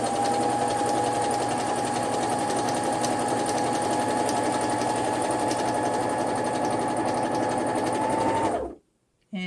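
A sewing machine stitches fabric in one steady, fast, whirring run, close and even, before cutting off abruptly into silence.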